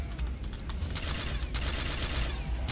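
Rapid rifle gunfire in Call of Duty custom zombies map Nacht Der Untoten, sustained bursts of close, loud shots firing in quick succession with mechanical clatter between them.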